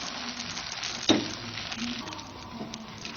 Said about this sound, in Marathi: यावर आता आपण तेल सोडून घेणार आहोत